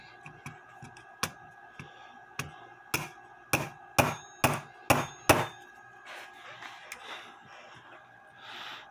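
A small hammer taps on a part of an early 20th-century Junghans clock, a series of sharp clinks that quicken into a run of louder strikes, then fade to lighter taps.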